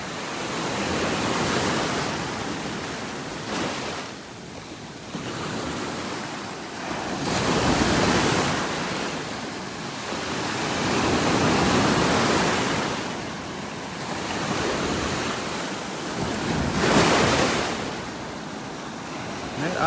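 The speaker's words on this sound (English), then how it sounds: "Standing here watching these waves crash." Ocean waves crash steadily on a beach in North Naples, Florida, a loud continuous surf roar that swells and recedes in slow surges, with some wind noise and no talking.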